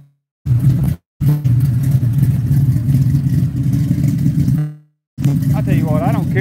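Engine of a car rumbles loudly and steadily, with short silent breaks near the start and one in the middle; the engine carries on after the second gap, with a voice faintly audible near the end.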